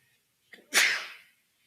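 A single loud, sharp sneeze with a brief intake just before, alone in a quiet room during a Shabbat service.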